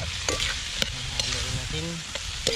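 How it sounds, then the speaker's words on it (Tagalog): Banana heart is stirred into dinuguan, a pork blood stew, in a pot, with a steady close sizzle and repeated scraping strokes of a spoon against the pot, with no speech. "Sasabay na natin yung puso ng saging. Tapos haluin."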